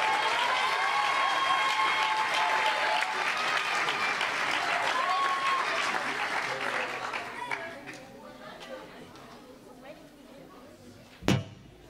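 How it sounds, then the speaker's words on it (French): Loud applause and cheering from the audience at a school closing concert, sustained and dense for about seven seconds, then thinning to scattered claps with a sharp bang near the end. "On peut les applaudir encore très très très fort, s'il vous plaît."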